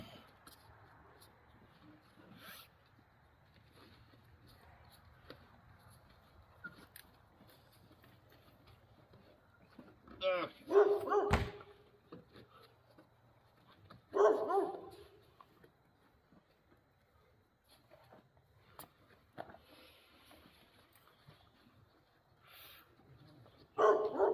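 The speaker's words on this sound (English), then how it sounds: "there's my big, mean, scary dog barking at us." A dog barks in short, loud bursts at a distance, with several separate volleys spaced across a quiet scene, set in a workshop where seat removal is under way on a 1968 vehicle.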